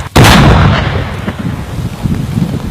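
A single powerful blast from a controlled detonation of unexploded ordnance by a bomb clearance team in Laos booms sharply, then rumbles and echoes away across open ground.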